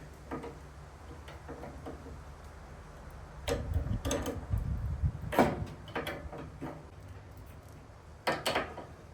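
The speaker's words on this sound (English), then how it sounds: "So I got this wrench. It's not quite long enough, but it might do the trick." Metal wrench turning and tightening a bolt on an electric trike, giving a series of sharp clicks and clanks with a louder burst of knocking in the middle, close by with no talking.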